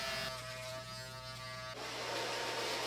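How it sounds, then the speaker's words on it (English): Steady electric buzz from a Wahl Finale shaver skin-fading a haircut in a barber competition, continuous and close with a constant mains-like hum, shifting tone partway through as it moves over the head. "I will now take my Wahl Finale shaver and begin to skin slightly below"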